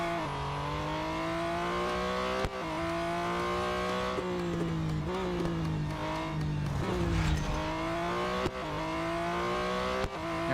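A Porsche race car engine in Real Racing 3 drones at high revs with steady harmonic whine, pitch dipping and climbing through gear shifts and sharp clicks, loud and continuous throughout with no talk over it.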